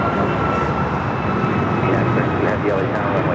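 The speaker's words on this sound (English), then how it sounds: "United Airlines 2692 coming in from Newark." A United Airlines jet arriving from Newark roars steadily overhead at LAX, a dense, loud broadband rush of engine noise that stays constant throughout.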